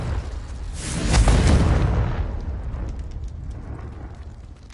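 Explosive blast from a Confringo spell in the video game Hogwarts Legacy, a loud booming eruption that swells, peaks, then rumbles and fades away with crackling debris.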